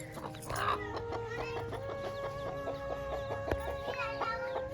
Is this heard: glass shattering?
no